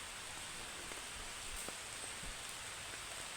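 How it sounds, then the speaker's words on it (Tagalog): Early rain pours down in a constant soft wash, broken by a few faint nearby drip ticks, with no one talking over it. "So medyo maaga pa ang ulan, no?"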